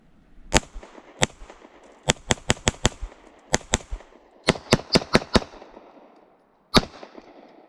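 Kimber KDS9C pistol firing 147 grain flat nose rounds outdoors: sharp, loud shots in irregular strings, some rapid clusters and single reports, with a short pause before a final shot.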